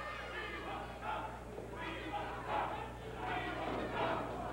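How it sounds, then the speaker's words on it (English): A wrestling arena crowd at a Central States All Star Wrestling event in 1984 chants rhythmically for JYD, the swells rising and falling in repeated beats over steady crowd noise at a moderate distance. "They're starting that chant, JYD, JYD, and Dog is answering them."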